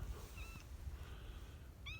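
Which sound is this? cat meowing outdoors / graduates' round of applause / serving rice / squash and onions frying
cat meowing outdoors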